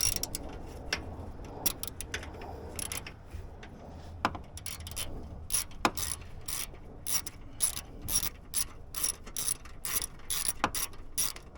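A hand ratchet works a 10 mm nut off an AC line bracket on a Cadillac SRX, making rapid clicking bursts and metallic ticks in uneven runs, close and fairly clear with no talking.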